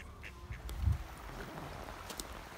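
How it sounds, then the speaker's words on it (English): Ducks quack a few times beside Loch Ness at a campsite, faint and somewhat distant over a steady outdoor background hum. "And the ducks are pretty hungry."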